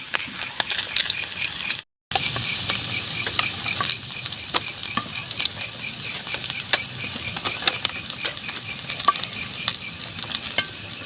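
Small wader fish fry in hot oil with a steady crackling sizzle, punctuated by sharp clicks and scraping as the pieces are stirred, with a brief dropout near the start.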